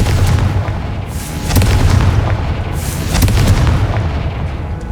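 Confringo spell explosions in the video game Hogwarts Legacy, heavy booming blasts with a deep rumbling roar that swells twice over a sustained loud low rumble, with no speech.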